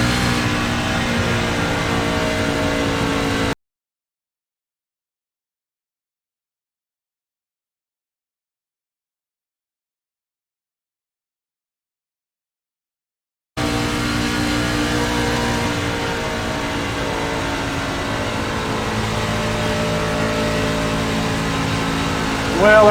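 A NASCAR Gander Truck Series race truck engine in iRacing at Auto Club drones loud and steady, drops out into a long stretch of silence, then returns with sustained engine roar.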